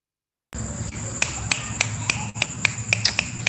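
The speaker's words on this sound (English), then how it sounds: "make some noise, snap it up, clap it up, the way we show love" Audience finger snaps at an online open mic, a string of sharp clicks at an uneven rhythm over a steady background hum, fairly close and moderately loud.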